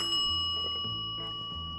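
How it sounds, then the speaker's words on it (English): A telephone rings indoors, a steady bright tone with a sustained ringing shimmer, loud and close, heard alone without talk. "Why is the phone ringing?"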